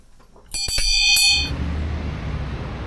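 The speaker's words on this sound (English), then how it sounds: "the good old Bibbulmun track bell" A metal trail bell at the Bibbulmun Track terminus in Kalamunda is struck several times in quick succession, ringing out loud and bright before its tone fades into quiet outdoor ambience.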